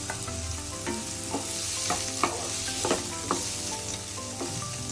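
Tomatoes fry in a pan for a North Karnataka mandakki oggarane, with a steady close sizzle and repeated light stirring taps from a spoon against the pan.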